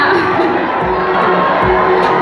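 An audience at the grand final of an eloquence tournament cheers and shouts in a dense, steady roar of many voices that stays loud throughout.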